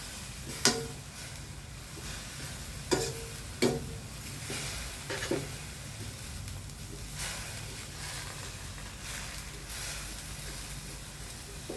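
Chicken and papaya curry bubbling in a pot, with a soft steady simmering hiss and a few sharp clinks of a utensil against the pot scattered through, close up and without talking.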